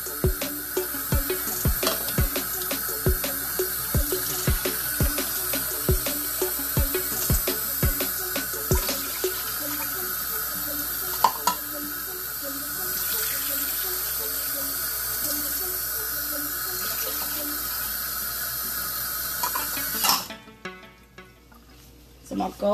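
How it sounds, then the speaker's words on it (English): A steady stream of water pours into a pot, a continuous hissing splash with some clinks early on, stopping abruptly near the end. "I put in 3 3/4 cups of water."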